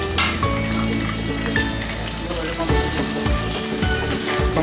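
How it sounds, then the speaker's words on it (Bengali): Pomfret (rupchanda) fish sizzles steadily in hot oil as it fries for a dopiaza, with a dense, continuous crackle that stays close and loud throughout. "এখন এটা ফ্রাই করতে হবে তুলে"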